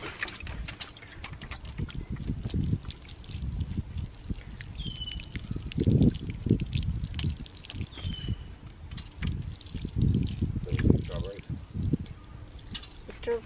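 Water pours and splashes onto garden plants in an uneven, close stream of gurgles and trickles while people talk throughout.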